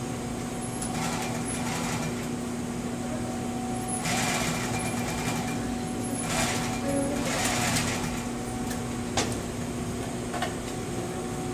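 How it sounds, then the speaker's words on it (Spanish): A sewing machine stitches along a jacket's seam line in a steady mechanical whir with brief louder bursts of stitching, alone with no talk. "uno levanta la chaqueta y se cose por la línea de costura que ya tenemos realizada"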